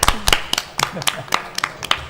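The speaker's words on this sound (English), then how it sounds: "Let's clap." An audience claps during a speedrun event, with sharp separate claps landing in a loose, irregular rhythm and talking underneath.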